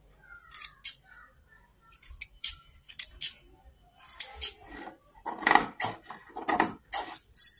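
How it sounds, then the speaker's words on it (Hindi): Freshly sharpened scissors slice through thick cloth in a quick series of about a dozen crisp, close snips, each with a short pause between cuts. "आप देख सकते हैं कपड़ा जो है बहुत अच्छा कट कर रहा है"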